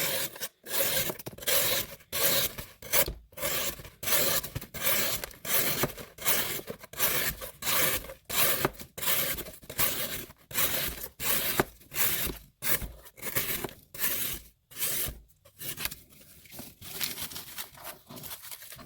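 A Spyderco Manix 2 Lightweight knife with a CPM-SPY27 steel blade slices through cardboard in a long series of rhythmic, rasping cuts, each scrape loud and close, repeating about once per second with brief gaps between strokes.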